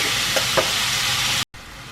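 Onions and meat frying in a pan for mustard red wine spaghetti, a steady close sizzle with two brief stirring knocks and a short cut to silence near the end.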